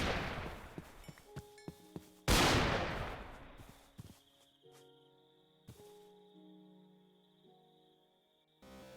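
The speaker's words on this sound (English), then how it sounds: "Sorry for the gunfire." Gunfire in a modded Minecraft game: a burst of sharp, close shots followed by scattered single reports that fade and ring out in a synthetic tail, with tonal game sounds underneath.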